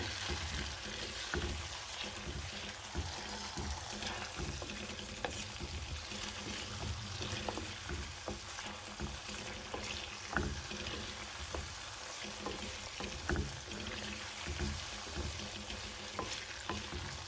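Tunisian sauce stirred in a pan on the stove, a steady close sizzle of frying with scraping stir strokes over it, continuous and moderately quiet.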